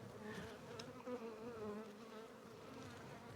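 Honey bees buzzing around an open hive during a spring frame inspection, showing brood and eggs. A soft, steady, close drone continues without a break, with no voices.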